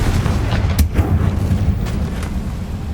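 A Confringo fire spell explodes in the video game Hogwarts Legacy, a sharp blast near the start followed by a dense, rumbling low roar and a few fainter crackling bursts over a continuous game soundscape.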